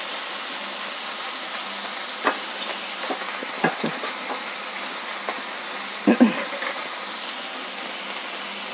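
Vegetables roasting in a frying pan with salt and turmeric, giving a steady close sizzle with a few soft stirring knocks and scrapes, heaviest around the sixth second.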